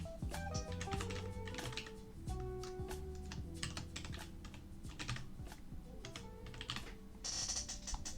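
Rapid typing on a computer keyboard while entering sign-up details, a dense run of close, crisp key clicks at uneven speed continuing for several seconds with no voices.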